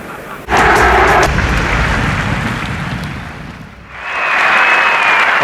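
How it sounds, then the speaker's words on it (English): A cricket crowd at Headingley during the 1981 Ashes Test breaks into loud, sustained applause that dips briefly before swelling again, broad and roaring across the ground, with no one talking. "the roar of applause greeting the Headingley hero, Ian Botham."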